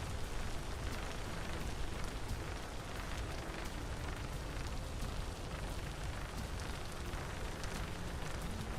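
Steady, dense rain pouring down in Pennycress, a continuous even hiss with no pauses or voices.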